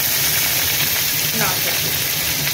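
Carrot lightly frying in oil in a pan gives a steady, fairly loud sizzling hiss that runs throughout without pause.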